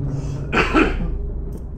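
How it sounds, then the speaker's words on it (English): A single sharp cough bursts out, close and loud, followed by a brief trailing rasp, heard during play of the horror game Tsugunohi Chapter 3. "Cough came out on that one."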